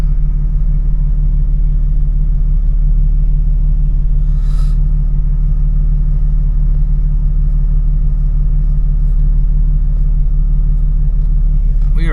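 A Jeep Cherokee XJ's engine rumbles in a steady, loud low drone from inside the cabin while driving, with faint road noise on top.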